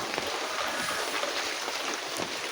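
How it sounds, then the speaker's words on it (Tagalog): Heavy rain pours steadily during a flood, a dense continuous hiss of water with no pauses and no voices. "Ang lakas pa ng buhos ng ulan."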